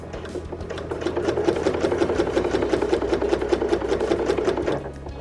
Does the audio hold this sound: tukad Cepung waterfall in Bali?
no